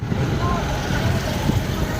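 Street traffic flows near the shops of a municipal complex, with a low rumble of trucks and cars idling and passing. Nearby voices murmur over it.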